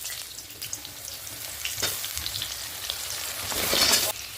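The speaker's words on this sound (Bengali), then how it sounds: "এর মধ্যে সবজিগুলো কেটে ধুয়ে রেখেছি, এর মধ্যে দিয়ে ভেজে নেবো" Vegetables sizzle and crackle as they fry in hot oil tempered with bay leaf and five-spice, a steady close hiss with small pops and a brief stirring scrape near the end, no voices.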